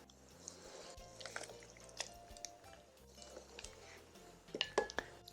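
Thawed spinach being stirred into a garbanzo bean soup with tomatoes, quiet wet squelching and soft sloshing with a few light clinks of the spoon against the pot, faint and close, growing busier toward the end.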